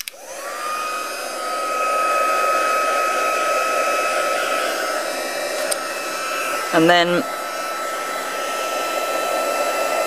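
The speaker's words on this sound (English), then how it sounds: "make sure your heat tool is warm first" An embossing heat tool blows a steady, loud stream of hot air with a high whine, and a voice speaks briefly under the continuous roar.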